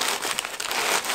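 Paper shred crinkling as it is tucked into a handmade soap order package: continuous close rustling and crackling, fairly loud and dense, with no talk.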